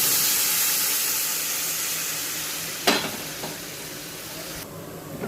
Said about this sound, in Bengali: ভাজা হয়ে গেছে, এখন জল দিয়ে দেবো।